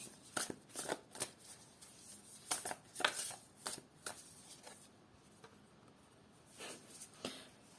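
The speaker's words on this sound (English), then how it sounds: "So I want to pull another card." Tarot cards are shuffled by hand, a quiet series of crisp riffling bursts and soft slaps in an uneven rhythm, pausing briefly before a final few shuffles.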